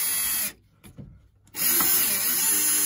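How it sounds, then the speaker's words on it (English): Power drill driving a screw during shed plumbing work for a washing machine, whirring loudly in two bursts separated by a near-silent pause, with no talk. "and the drill."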